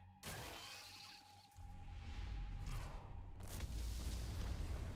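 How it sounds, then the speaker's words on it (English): Fireworks-like explosions going off in ant tunnels during a raid cutscene in the game Solo Leveling Arise, with a sharp burst followed by loud, continuous rumbling blasts and crackling debris that build and carry on. "Looks like fireworks are going off in the ant tunnels."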